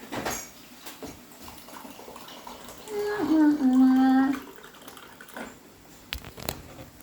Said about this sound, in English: water filter over here.